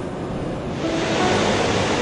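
Sea waves wash onto a Konkan beach in a continuous, close, wind-blown roar of surf that swells slightly toward the end, with no one speaking.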